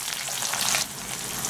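Chopped ginger sizzles and fries in hot oil in a pan while a quick breakfast dish is cooked, a steady close crackling hiss with a brief stronger burst partway through.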